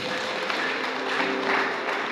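Wedding guests applaud during a church ceremony led by a pastor, producing a moderate, even wash of clapping under a faint musical tone for about two seconds.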